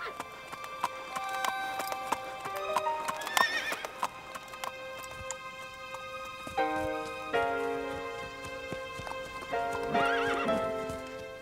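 A golden palomino horse gallops with clip-clop hoofbeats and lets out shrill neighs and whinnies, set against a steady bed of music that runs throughout.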